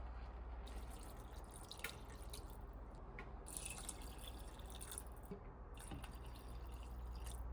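Water is poured into basmati rice in a pressure cooker, making a faint, steady trickling and splashing that runs unbroken and quiet throughout.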